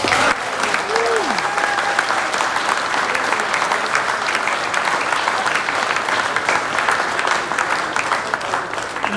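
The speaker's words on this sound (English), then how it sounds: "give yourselves a big round of applause" Sustained applause from a large crowd at an awards ceremony fills the whole stretch, dense and even, with no speech over it.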